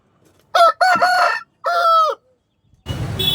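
A country rooster at a village chicken market in Vijayawada crows loudly and close in a few strong bursts, followed by a noisy rustling clatter at the end.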